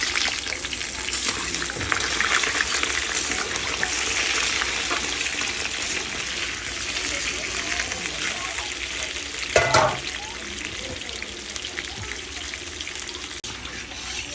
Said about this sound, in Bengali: তো দেখতে পাচ্ছি আলু অলমোস্ট ভাজা ভাজা হয়ে গেছে